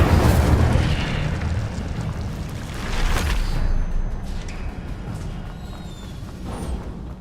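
An Incendio fire spell cast in Hogwarts Legacy gives off a loud burst of whooshing flame that roars up at once, swells again briefly and then slowly fades.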